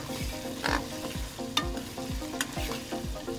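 Arvi (taro root) and chicken frying over high heat in a pan, loud close sizzle with rhythmic stirring scrapes roughly every half second, no voices.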